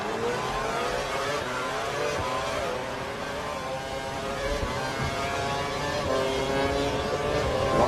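Engine of a Formula 1 car in the F1 2012 racing game, Australia round, a steady droning whine with rising and falling harmonics that holds at an even level throughout, with no talking.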